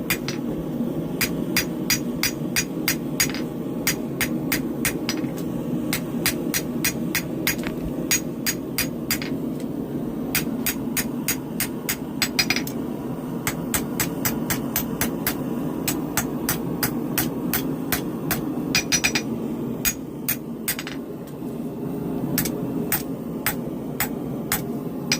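A tanto knife blade is hammered on an anvil during blacksmithing, a long run of sharp metallic strikes in steady bursts of quick rhythmic blows, close and loud over a constant low forge hum.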